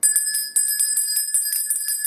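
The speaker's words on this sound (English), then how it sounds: "we ring this bell anytime I get a bonus major arcana card or a pentacle card" A small handheld bell rings in rapid, continuous shaking strokes, bright and metallic with a sustained high tone, close and loud with no talking.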